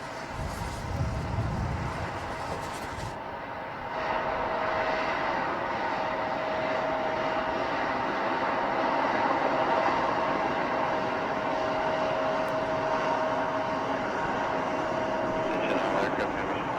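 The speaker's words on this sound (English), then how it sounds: "we're going to sit here for a minute and just watch the airplane do its thing" Boeing 777X airliner engines on its maiden flight, a steady broad roar with a sustained whine, fairly loud and continuous, rising slightly after a few seconds, with voices talking faintly underneath.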